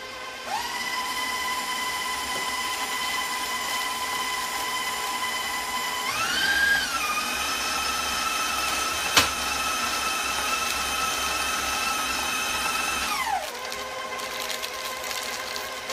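A KitchenAid stand mixer mixes cookie dough with a steady, loud motor whine running almost the whole time, pitching up briefly mid-run before winding down near the end.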